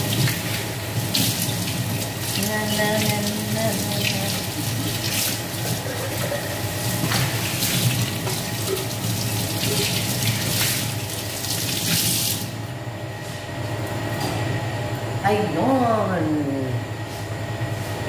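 Water runs steadily from a tap during washing in a home kitchen or sink, a constant close rushing broken by occasional splashes, with a voice talking at times over it.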